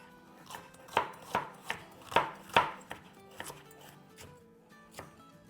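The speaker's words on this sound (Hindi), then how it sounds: "तो बेसिकली ये स्लाइस में इस तरह से काट लेंगे" Vegetables are sliced into pieces with a knife on a board: a brisk run of crisp, close chops that then slows to a few sparser cuts, with no voices.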